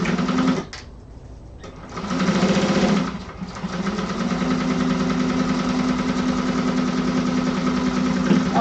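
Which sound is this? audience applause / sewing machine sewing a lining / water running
sewing machine sewing a lining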